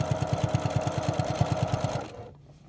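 A sewing machine stitches a quilt seam on a spider web quilt in a quick, even run of about twenty close mechanical thumps, then goes quiet.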